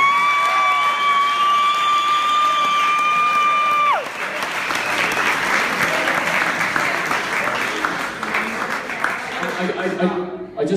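Wedding guests break into loud, sustained applause mixed with cheering, following a melodic tone; the clapping fills the room and carries on for several seconds.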